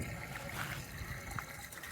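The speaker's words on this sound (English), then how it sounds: "We're going to run some water in there and flush out that tank a little bit." Water runs steadily from a gravity filler into an RV freshwater tank, a soft continuous trickling and rushing wash that stays close and fairly quiet throughout.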